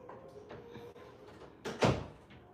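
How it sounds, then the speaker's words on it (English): A door is shut once indoors, giving a single fairly loud thud and rattle near the end after a quiet, murmuring room background. "Shut the door."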